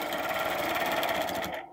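A sewing machine stitches an arc, running at a steady, fast, even whir with a dense rhythmic needle patter, close and continuous before stopping abruptly.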